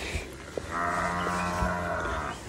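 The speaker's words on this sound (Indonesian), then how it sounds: "Ada sapi." A cow moos loudly and close by in a rural hillside setting, one long sustained low call after a few brief knocks.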